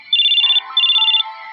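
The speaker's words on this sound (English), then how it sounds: "Was that a phone?" A phone ringtone in the video game Choices, two loud bursts of a bright warbling electronic trill with a quieter melodic phrase between and after them.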